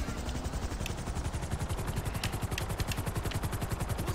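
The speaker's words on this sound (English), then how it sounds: "Helicopters." Valkyrie military helicopter in GTA V police-mod gameplay, its rotor thumping in a fast, steady chop that stays loud and close throughout, with crackling engine noise layered on top.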